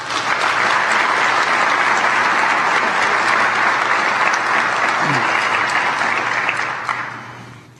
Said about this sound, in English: I'd give him a round of applause